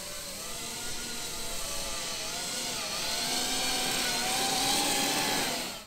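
A Coanda effect drone with large dome-shaped ducts lifts off at about half throttle, giving a steady, loud whirring buzz that rises slightly in pitch as it climbs and holds, with no voices over it.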